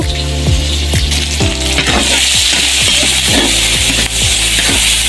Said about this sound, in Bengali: এর সাথে আমি পেঁয়াজ মরিচ ভাজি করব